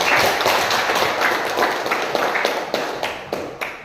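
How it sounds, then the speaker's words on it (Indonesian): An audience applauds a presenting group at a compost-making training session, a dense burst of clapping that gradually thins into scattered individual claps over a few seconds. "Kita kasih aplaus dulu untuk kelompok"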